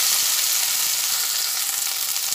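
Okra pieces fry in hot oil with black cumin, giving a dense, continuous hiss that stays loud and close throughout, with no voices.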